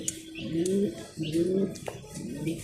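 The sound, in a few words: pigeons cooing at a pigeon farm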